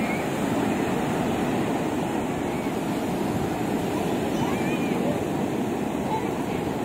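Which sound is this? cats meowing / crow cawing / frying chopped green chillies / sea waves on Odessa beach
sea waves on Odessa beach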